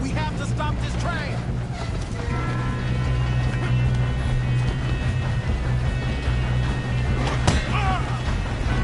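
A moving train in the video game Red Dead Redemption 2, a steady loud mechanical rumble with clanking and rattling throughout, heard beneath voices talking.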